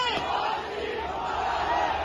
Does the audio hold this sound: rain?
no